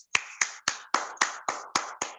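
Eight slow, evenly spaced claps ring out sharply and close by, each with a short reverberant tail, the rhythmic clapping of a training-session audience welcoming a guest speaker.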